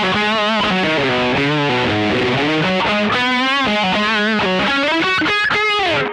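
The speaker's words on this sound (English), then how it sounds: "then I could kick on the overdrive pedal" Electric guitar driven through a kicked-on overdrive pedal, gain-heavy distorted chords and sustained notes ringing loud and continuous for about six seconds, alone without voices.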